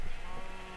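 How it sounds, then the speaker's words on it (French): A sheep bleats in a video game: one short, faint bleat over a low background, with no talk. "On peut voir ici Tarchelox qui s'amusait à mettre les moutons de toutes les couleurs possibles"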